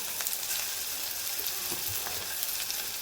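Ginger garlic paste fries with browned onions in hot oil for restaurant-style chana masala, a constant close sizzle and crackle with occasional stirring knocks and no voices.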